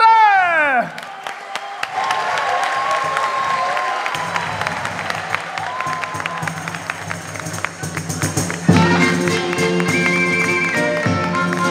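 Audience applause greets a king's entrance during a costumed skit at a summer-camp animators' presentation, with sustained clapping and crowd noise running under music tones and voices that swell near the end.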